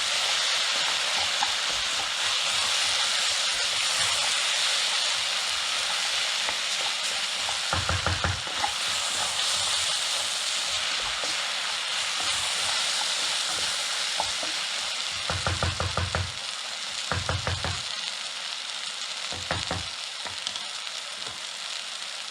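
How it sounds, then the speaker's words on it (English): Sweet potato lentil soup with salt and pepper is stirred in a pot, a continuous hissing sizzle broken by repeated rhythmic scraping strokes of the spoon, with no voices. "Give it another stir."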